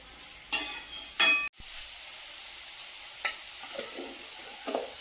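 Okra fries in a pan and is stirred, a steady close sizzle broken by a few sharp scraping stirs, with no talk.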